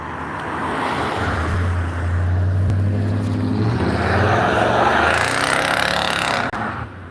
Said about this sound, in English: And car sound like about to explode.